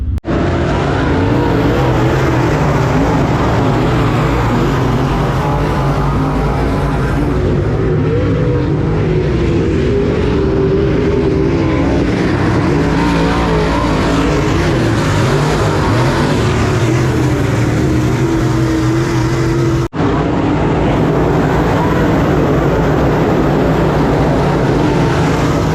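Dirt late model race cars roar around a South Dakota dirt track in a loud, continuous pack, engines rising and falling as cars pass, with brief tire scrubbing.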